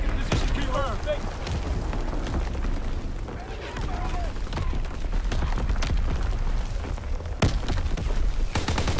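Heavy naval primary battery salvos from a warship in the video game Call of Duty WWII, deep booming blasts rumbling continuously with sharp reports near the end, under game talk and background chatter.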